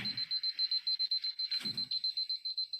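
A medication reminder alarm beeps in rapid, regular pulses at a steady pace, fairly quiet, with two brief low thumps of background noise partway through.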